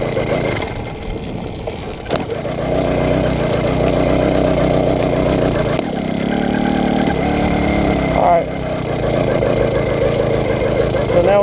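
80cc two-stroke motorized bicycle engine with a prototype head gasket, started on a little choke, catching after a brief crank and then idling loudly and steadily close by with an uneven, rattly tone.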